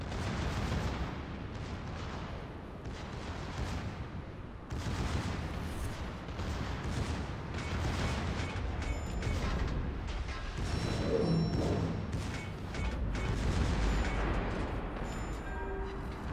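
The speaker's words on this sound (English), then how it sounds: "Beautiful dispersion coming out of those guns." Secondary batteries of the Bismarck firing in World of Warships: steady, dense bursts of naval gunfire with booming, overlapping salvos across the whole stretch, loud and close, with no talk over it.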